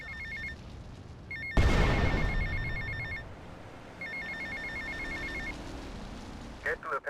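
A payphone at an airport terminal in Grand Theft Auto: Vice City rings in electronic trilling bursts, one ring set, a loud thump, then another ring set, with a low game-world background bed.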